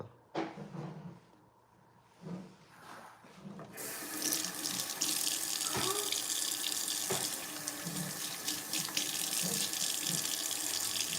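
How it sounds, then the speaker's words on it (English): Tap water runs steadily into a kitchen sink during handwashing while making breakfast, starting after a few seconds of quieter handling sounds and continuing loud and close to the end. "I wash my hands."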